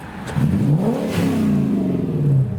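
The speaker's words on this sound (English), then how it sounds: "Let's see if we can listen out for the V8 noises from the Lexus" A Lexus LS400's 1UZ V8 engine revs up and holds a rising growl, heard close by with a throaty, mid-pitched roar and no talking.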